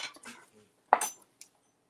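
Sushi rice is served at a home kitchen table, with a few soft scrapes followed by a single sharp clink of cutlery against a dish and a faint later tap, otherwise quiet.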